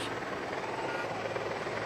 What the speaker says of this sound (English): you'll see a second helicopter and another hero's welcome for the people here